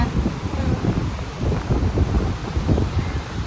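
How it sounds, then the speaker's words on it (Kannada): Gusty wind roars and buffets the microphone in uneven surges, a continuous rough blowing with no clear talk. "ಹೆಂಗೆ ಗಾಳಿ ಹೊಡಿತಾ ಇದೆ ಗೊತ್ತಾ"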